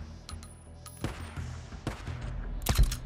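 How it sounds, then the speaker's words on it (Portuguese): Gunfire in the Days Gone video game crackles from a distance as scattered single shots and short bursts, irregularly spaced, with a heavier cluster of reports near the end. "esses tiros à distância."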